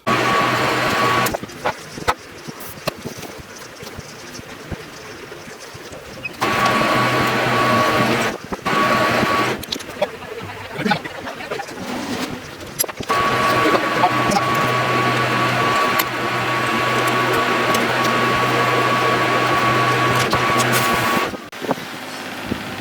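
A lathe in a workshop machining small metal parts for a vintage Top Fuel Harley, including a ferrule for a switch, gives a steady mechanical whir with a faint whine, broken by short pauses and shifts in pitch as cuts start and stop.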